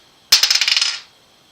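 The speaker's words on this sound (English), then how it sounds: "Let me roll a dice to see what sign it might be." Dice roll and clatter across a hard surface in a quick burst of about a dozen bouncing clicks, sharp at first and settling within a second, loud and close with no talk.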